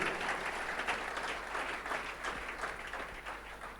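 Audience at a church conference applauding steadily, a dense wash of clapping that holds evenly throughout at moderate volume, with no voices standing out.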